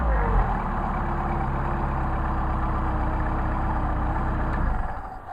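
Engine idling just above 800 RPM on Solex carburetors, a steady close low rumble with an even throbbing pulse, holding constant before easing off slightly near the end.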